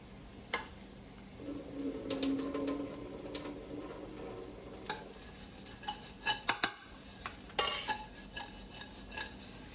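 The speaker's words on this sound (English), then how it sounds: "Now I'm just gonna throw the excess oil." Rendered guanciale fat poured off from a pan into a container, a short liquid stream followed by metallic clanks and scrapes of the pan and utensils, close and moderately loud.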